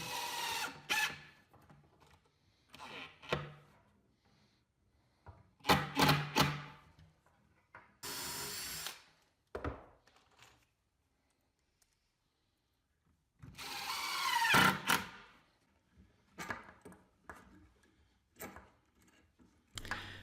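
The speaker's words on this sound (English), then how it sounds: "helping me sand these down on our custom sanding block" Wood pieces are hand-sanded on a custom sanding block in a woodworking shop, giving bursts of scratchy rubbing separated by quiet pauses, close and moderately loud.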